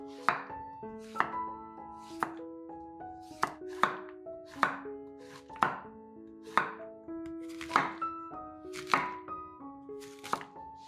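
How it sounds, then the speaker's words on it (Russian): A knife chops zucchini into rounds on a board, about a dozen crisp, evenly spaced cuts in a steady rhythm over soft background music. "Берем 2 средних кабачка или цукини и нарезаем их кружочками."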